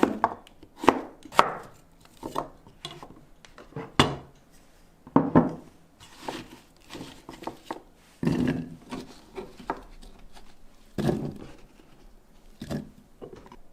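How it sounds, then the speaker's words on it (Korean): A knife cutting zucchini into thick slices for a stew, making uneven thuds against a wooden board that come in short bursts with pauses between, close and moderately loud, with no one talking. "호박을 조금 도톰하게 썰어주세요."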